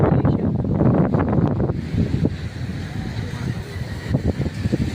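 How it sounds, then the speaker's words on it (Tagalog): Strong wind buffets the microphone with a loud, gusty roar that rumbles continuously and eases slightly partway through. "Lakas ang hangin."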